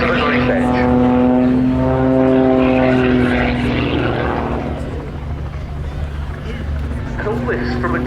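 A Pitts S-2S aerobatic biplane performs at the Cosford Air Show, its propeller engine droning loud and close with a rising, shifting whine through manoeuvres, under a commentator speaking over the public address.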